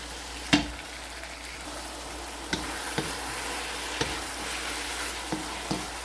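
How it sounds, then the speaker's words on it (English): Ground beef sizzles and fries steadily in a pan for beef pasta, with a sharp utensil knock at the start and a few lighter taps and scrapes as it is stirred. "we have to concentrate on browning our or cooking our grounded beef."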